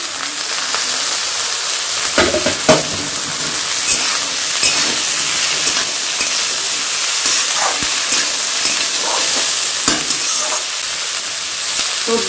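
Green peas and capsicum fry loudly in a hot wok for veg pulao, a dense continuous sizzle broken by repeated scraping stirs of a spatula, with no talk.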